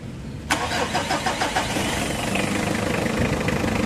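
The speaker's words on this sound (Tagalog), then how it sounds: "Pa-start ko na itong makina." A Mitsubishi Adventure engine cranks briefly, then catches and settles into a steady, rhythmic idle, close by and fairly loud, during brake bleeding.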